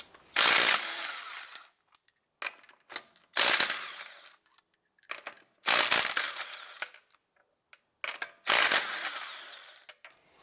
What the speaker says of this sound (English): Using our 19mm socket, let's go ahead and remove our lug nuts